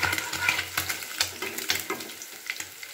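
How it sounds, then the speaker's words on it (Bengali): Small amudi fish frying in a pan give a steady crackling sizzle with scattered pops and spatters throughout, close by and without speech. "সমস্ত মাছগুলোকে আমি ভাজতে দিয়ে দিলাম"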